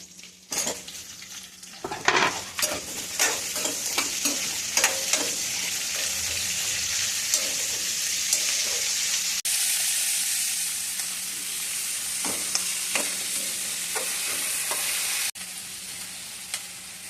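Chillies, ginger and garlic sautéing in a pan for tomato chutney, a loud steady sizzle broken by repeated clinks and scrapes of a metal spoon against the pan, close by, no voices.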